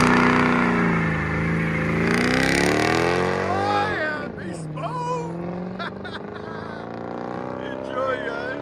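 Straight-piped supercharged Mercedes CL 55 AMG with AMG tips revs loudly, its exhaust note climbing and falling through repeated throttle blips with a raspy, booming tone, and voices underneath.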